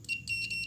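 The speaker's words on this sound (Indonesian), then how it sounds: "Kalau pakai buzzer" An electronic buzzer used in a homemade earphone circuit built from old headphone parts beeps in quick, high-pitched pulses, three or so short bursts over a faint low hum.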